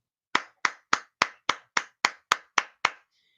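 Ten sharp hand claps at a steady, even pace, close and crisp with clean silence between each, followed by a faint tonal trace.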